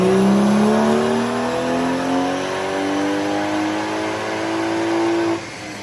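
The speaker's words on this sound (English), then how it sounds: "we're going to get my car on for the dyno run pulls." A BMW with a B58 engine, just tuned at a shop, makes a loud dyno pull, its exhaust note climbing steadily in pitch for about five seconds before cutting off abruptly.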